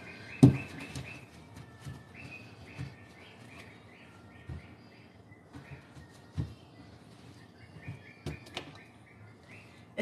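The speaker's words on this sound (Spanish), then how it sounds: "Está mi pájaro cantando, mi cacatúa." Faint cockatoo chirps and whistles recur softly in the background, mixed with occasional taps and clicks in a quiet room.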